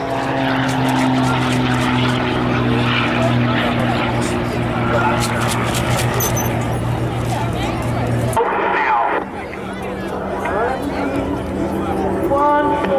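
Northern Lights aerobatic team propeller aircraft take off in diamond formation at an air show at Quonset ANGB, with a loud, steady engine drone that drops in pitch partway through. An announcer speaks over the engines.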